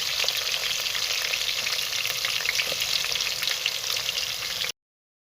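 Onions and potatoes frying in a pan with added water, a loud, steady close-up sizzle with faint stirring scrapes, ending abruptly in silence; no one speaks.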